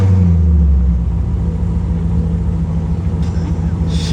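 A supercharged LT4 V8 in a Chevy Corvette C1 restomod pulls away, its loud, steady low rumble filling the clip with a mild rise as it moves off and faint higher noise near the end.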